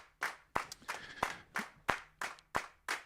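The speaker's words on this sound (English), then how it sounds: "This sound is used a lot in like TV shows and stuff. There's just like the clapping." Sharp, evenly spaced hand claps, about eight in a steady rhythm, sound close and dry and stand alone with no talk.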